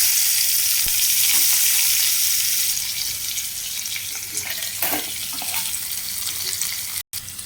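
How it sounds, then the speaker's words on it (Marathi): Sliced onion frying in a pan, a steady close sizzle throughout with a few faint clinks, alone with no talk. "आतां हांव शिंदिल्लें पियाव म्हणटा घालता"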